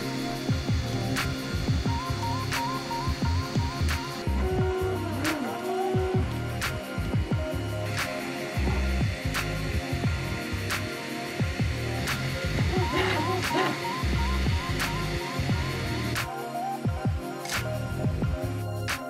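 An Anet A8 3D printer runs a test print of a small boat model, with whining, warbling stepper motor tones, regular clicks and a low steady hum, close by.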